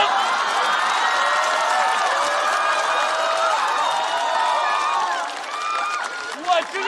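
A stand-up comedy show audience bursts into loud, sustained applause and cheering, with scattered whoops and shouts running through it, easing slightly near the end.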